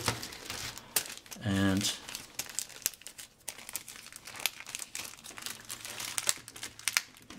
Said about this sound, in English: So we're going to open the third bag now